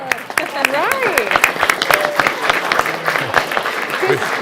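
Council chamber applause breaks out at a city council meeting, scattered claps under overlapping voices and cheerful talk, fairly close and lively.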